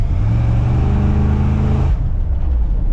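A Ford F100 truck engine rumbles close by with a deep, steady idle-to-rev drone, then drops off sharply near the two-second mark as the truck pulls away, leaving a fainter low hum.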